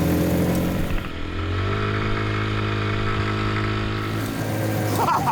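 A motorcycle engine on a ride through Austria revs up and accelerates hard, its loud, close growl rising steadily in pitch with clear gear-like harmonic sweeps before easing off.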